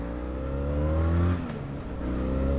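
A 2022 Benelli 502c motorcycle engine pulls in first gear, its steady droning hum rising slightly in pitch, easing briefly, then picking up again, heard close with no talking.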